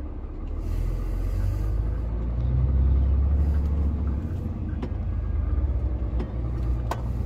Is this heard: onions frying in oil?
no